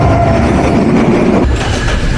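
An intercity train hauled by locomotive 3011 rolls past on a Bangladeshi line, a loud, steady rumble of wheels and carriages with a shift in tone partway through.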